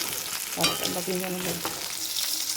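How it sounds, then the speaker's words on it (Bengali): Fish and okra sizzle in a pan, a close, continuous crackle of hot oil with a few faint clinks of a utensil. "মাছ ভাজা করুন এখানে আর ভেন্ডি ভাজা করুন"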